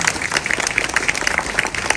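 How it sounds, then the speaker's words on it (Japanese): Loud, dense applause from an outdoor festival crowd after a ninja troupe's performance, continuous clapping close by with no pause. "大きな拍手をお願いいたします。"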